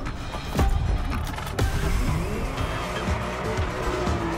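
A Ferrari race car in a driving video game roars past with squealing, skidding tires, its engine whine rising and falling over a steady mechanical drone, close and fairly loud throughout.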